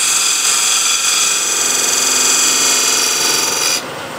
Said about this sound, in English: going here, into side grain, it's much more easier, much more comfortable, and you're just scraping the side grain